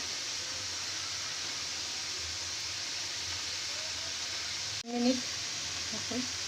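Pasta stirred in a hot pan while making homemade chicken pasta gives a steady, close hiss of frying that runs throughout, with a brief break and a few soft clinks near the end.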